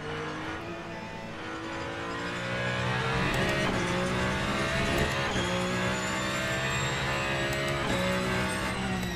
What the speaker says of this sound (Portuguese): Os sons estão realmente muito, muito interessantes dentro do carro.